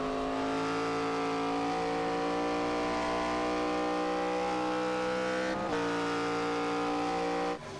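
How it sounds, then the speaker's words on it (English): Race cars lapping Watkins Glen in an ARCA rookie-class sim race, a loud steady engine drone with layered harmonic whine throughout, briefly dipping as the throttle lifts near the middle and again at the end. "We heard that little lift of the throttle there that Velasquez had to do."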